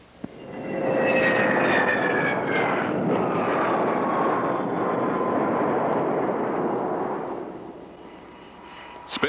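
A North American F-100D Super Sabre jet roars loud and steady during a spin test at high altitude near Palmdale. A descending whine sits over the noise before it fades near the end.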